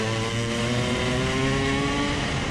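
A racing motorcycle rides a circuit during a first practice session, its engine a loud, close, steady drone with strong harmonic tones that hold throughout, no voices.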